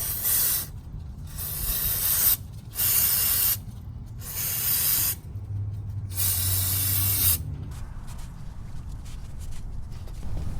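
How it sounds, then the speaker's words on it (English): Brake cleaner sprays in four or five long, loud hissing bursts onto a brake rotor during front axle service on a first-generation Toyota 4Runner, with short pauses between them, then a quieter shuffle of handling afterward. "So just use some brake cleaner, whatever brand you got."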